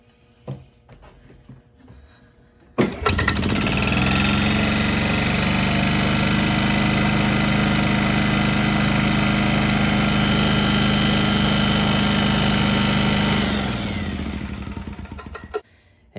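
Club Car DS golf cart engine cranks and catches at once, then runs at a steady loud buzzing idle for about ten seconds before fading out as it shuts off, close by with no talking.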